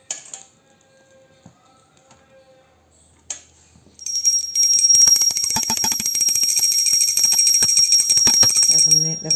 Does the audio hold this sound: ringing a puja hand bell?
yes